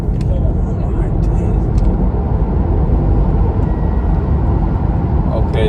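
A Tesla Model 3 accelerating hard, heard from inside the cabin as a loud, steady roar of road and wind noise that holds at one level from start to finish.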